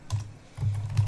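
A few keystrokes on a laptop computer keyboard, short soft taps in two or three quick bursts, close by with no voices.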